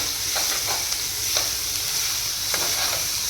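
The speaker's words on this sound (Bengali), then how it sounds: "এরপরে হালকা তেলের মধ্যে কুচানো পেঁয়াজ, আদা, এরপরে রসুন দিয়ে হালকা পরিমাণে ভাজা লইতেছি" Chopped onion, ginger and garlic fry lightly in oil with a steady bright sizzle throughout, broken by a few soft stirring scrapes.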